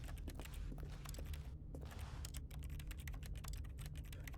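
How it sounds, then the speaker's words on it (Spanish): Rapid keyboard typing clicks triggered by left-clicking in The Stanley Parable, a steady run of close, crisp keystrokes over a low hum, with no one talking. "Cuando le doy al clic izquierdo se escucha como teclado."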